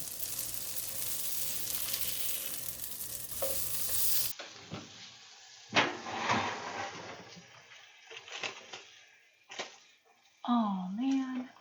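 Vegan Beyond Meat breakfast sausage sizzles in a pan after being flipped. The frying comes as bursts of crackle and scraping between quieter gaps, with a voice speaking briefly near the end.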